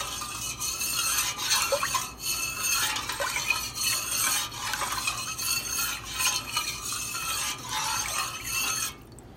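Cheese starter mixed into milk for feta, a continuous close swishing and sloshing of liquid stirred in a pot, with faint utensil clinks, steady throughout.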